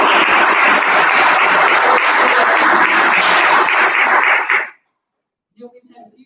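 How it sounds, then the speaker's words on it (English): A panel discussion audience applauds loudly and steadily for about four and a half seconds, then the clapping cuts off and a faint voice follows. "We applaud you."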